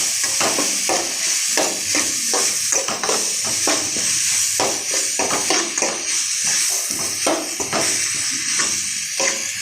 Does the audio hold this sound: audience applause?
no